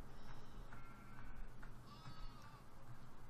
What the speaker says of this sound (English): There's one of our sheep.